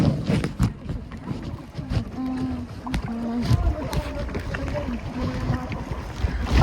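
Wind and splashing water around a moving boat at El Nido, with a motor hum and knocking, faint talk now and then.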